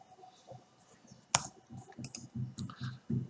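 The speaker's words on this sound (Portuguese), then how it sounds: "Terminamos a digitação digitando y igual a seno de x," Typing on a computer keyboard to enter a function into GeoGebra, finishing with a press of Enter: one sharp, loud key click, then a run of quicker, softer taps close by.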